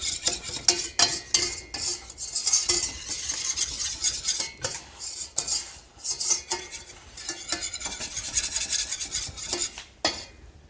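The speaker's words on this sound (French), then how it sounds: "Ajoutez maintenant la farine d'un seul coup et brassez tout pour bien mélanger" Flour is stirred into melted butter in a pot, giving busy, rhythmic scraping and clinking of a utensil against the pan that rises and dips in repeated strokes, close up, with a faint sizzle beneath.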